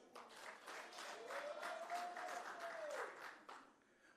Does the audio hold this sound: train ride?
no